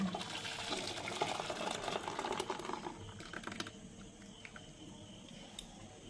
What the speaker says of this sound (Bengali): এবার একটা পাত্রে ঢেলে নেব